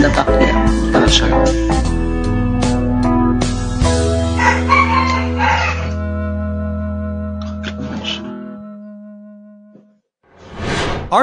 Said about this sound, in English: There's the rooster in the back there.